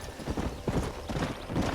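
Horse hooves from Red Dead Redemption, a brief burst of clip-clopping steps, fairly close and muffled, alone with no talk.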